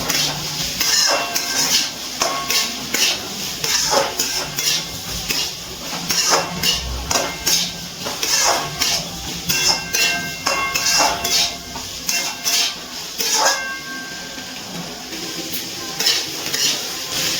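Metal spatula scrapes and clanks against a pan while green peas are stir-fried with beetroot, carrot and green chillies for a Bengali vegetarian curry, with a steady sizzle beneath repeated close stirring knocks.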